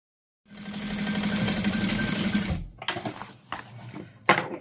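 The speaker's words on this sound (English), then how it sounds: "we're going to sew a 1/4 inch back stitching at the beginning and the end" A domestic sewing machine runs a quarter-inch back stitch, a steady close whirring chatter for about two seconds that stops abruptly, followed by a few short clicks and handling knocks.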